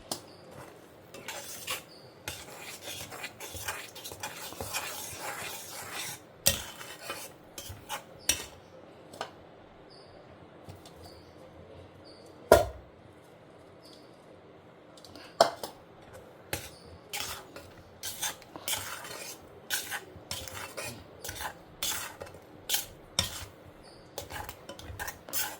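Spoon stirring thickening jaggery syrup in a metal pot during home cooking, a series of faint scattered scrapes and clinks with occasional sharper knocks against the pot.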